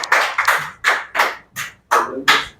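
A tutorial class applauding a student after a spelling answer: a short run of about seven loud, close, evenly spaced claps.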